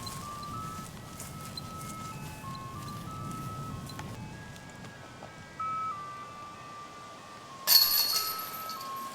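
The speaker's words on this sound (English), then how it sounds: "Sounds like we're right next to the ice cream truck." An ice cream truck's tinkling jingle plays on a golf course, a faint repeating melody of bell-like notes over quiet outdoor background, with a brief sharper sound near the end.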